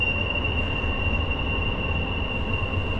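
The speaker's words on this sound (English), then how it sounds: "train's very obnoxious, isn't it?" A passing train near a mountain campsite rumbles steadily, with a sustained high metallic wheel squeal running over the low roar for the whole stretch.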